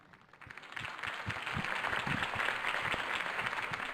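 A crowd in The Batman Telltale series video game cheers and claps after Harvey Dent's campaign speech, the applause swelling up from quiet and then staying broad and sustained, with some low thumps mixed underneath.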